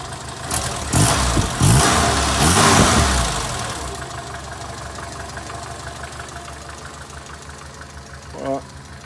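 A Renault 4L engine runs close by, roaring loudly at first with a couple of revs. It then drops to a steady, lumpy idle, with a brief clatter near the end.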